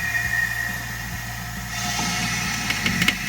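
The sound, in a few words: pneumatic car jack lifting at normal speed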